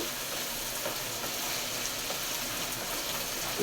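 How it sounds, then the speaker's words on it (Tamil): Small onions sizzle steadily in a hot pan for a dried fish thokku, a dense, even frying crackle that runs without a break and with no talking. "சின்ன வெங்காயம் நல்லா வதங்கட்டும்"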